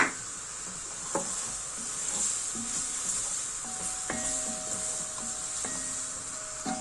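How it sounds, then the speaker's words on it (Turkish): Diced carrots sizzle and crackle in a hot pan while being sautéed for lentil soup, with occasional scraping stirs and clinks of a utensil against the pan. "Şimdi 2 adet küp küp doğradığım havuçlarımı ekleyip kavuracağım birlikte."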